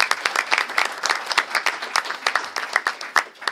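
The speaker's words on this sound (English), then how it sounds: "I'd still like to give him a round of applause." Indoor audience applause fills the scene, with a room of people clapping steadily and densely for several seconds at moderate volume.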